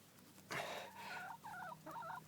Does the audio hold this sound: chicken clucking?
yes